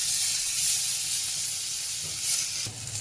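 Eggplant slices frying in oil, a steady loud hiss and sizzle throughout, swelling slightly near the end with a soft knock as the pan is touched.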